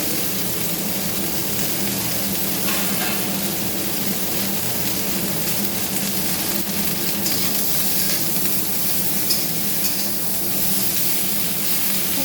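Katla fish fries in a pan of oil with a steady, dense sizzle that holds at an even loudness from start to finish, with no voices.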